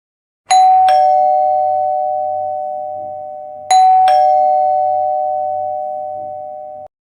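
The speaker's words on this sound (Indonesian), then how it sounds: "Bel rumah terus berbunyi." A house doorbell rings twice about three seconds apart, each a loud two-tone ding-dong chime that rings out slowly, with a faint low hum underneath and no voices.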